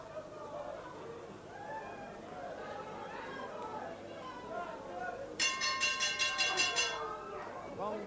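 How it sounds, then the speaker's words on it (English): A wrestling match ends with a gong ringing in quick repeated strikes, loud and close, over the steady murmur of a crowd and a commentator talking throughout. "Gong goes to the end of the match"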